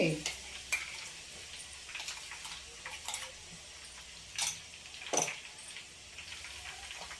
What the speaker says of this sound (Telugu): ఈ వేడికే చక్కగా వేగిద్ది